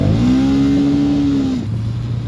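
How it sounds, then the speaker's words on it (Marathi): A motorcycle with a worn clutch plate accelerates in second gear, its engine holding a loud, near, steady whining drone that drops in pitch as it eases off. "दुसऱ्या गिअरमध्ये तर गाडीचा पिकअप बघा"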